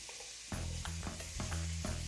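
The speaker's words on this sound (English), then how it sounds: "You can hear the bacon, and the bacon really is just giving us salt and fat." Bacon frying in a pan, a steady sizzle with several sharp stirring or scraping bursts over about two seconds, close and fairly loud, no voices.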